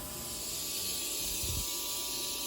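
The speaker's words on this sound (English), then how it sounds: "What it sounds like when I start to depressurize." A steady, loud rushing hiss of air escaping continuously as a hyperbaric oxygen chamber depressurizes, broad and unbroken, with a faint low thump partway through.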